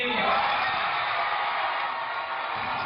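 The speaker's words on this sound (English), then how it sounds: "A crowd of about 100 or so celebrating the announcement at Clowney's alma mater, South Point High School." A high school crowd of about a hundred cheers an NFL draft announcement, a steady loud wash of whoops and yelling throughout, close and dense.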